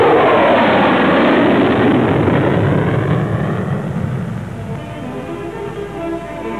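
A Lockheed YF-12 or SR-71 jet on its takeoff roll, a loud, steady broadband roar that stays close at first, then eases slightly and recedes as the aircraft moves away, with no voices over it.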